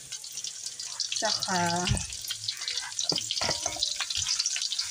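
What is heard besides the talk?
onion and garlic frying in hot oil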